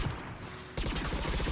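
Anti-aircraft gun fire in Mass Effect 3 on Xbox, a dense, loud burst of rapid booming shots that cuts in abruptly partway through and keeps pounding to the end.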